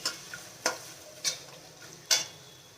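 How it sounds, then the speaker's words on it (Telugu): Onions fry with a little salt in a pan for bagara rice, a soft low sizzle under four or five sharp spoon scrapes and taps spaced evenly, close and quiet, no talk. "దీంట్లోకి లైట్గా సాల్ట్ వేసుకున్నాం మనం, ఆనియన్స్ తొందరగా ఫ్రై అవుతాయి కదా"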